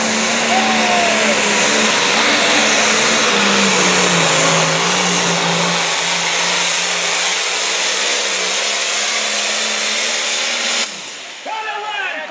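A light limited pro stock drag racing car makes a pass down the track at Idaville, Indiana, with a loud, sustained engine roar whose pitch dips and climbs over about eleven seconds before cutting off abruptly. Voices are heard alongside it.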